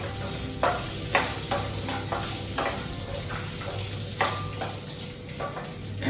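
Shallots and peeled garlic frying gently over a very low flame in a pan for Mangalorean chicken curry, a soft steady sizzle broken by occasional clinks and stirring taps.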